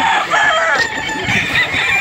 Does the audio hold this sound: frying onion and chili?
no